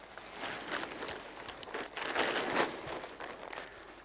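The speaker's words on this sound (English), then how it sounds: "Then fold one side into the centre" Gelert Horizon tent fly sheet fabric being folded, giving close, soft crinkling and rustling in uneven bursts with no talk.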